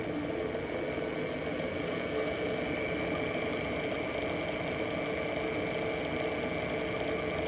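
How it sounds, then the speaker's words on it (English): A 5 kW zero cogging DC and wild three-phase AC generator runs at low RPM with a steady mechanical hum and whine, constant and even, with no talking over it. "This is the same zero cogging generator that you're used to."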